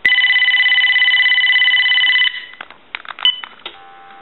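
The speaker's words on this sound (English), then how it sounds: "I'm going to go ahead and ring line 1. And it says I have a call coming in" A Uniden EXS9966 two-line 900 MHz cordless telephone rings on line 1 with a loud, steady electronic trill for about two seconds. Softer clicks and beeps from the handset follow.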